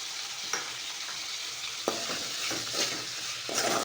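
Onions and tomatoes sautéing with salt in a pan, a continuous soft sizzle with a few sharp spatula scrapes and taps near the end, close-up and fairly quiet.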